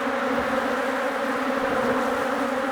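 Honey bees buzz around a hive in a steady, dense drone that holds evenly at a constant level, close and continuous with no voices.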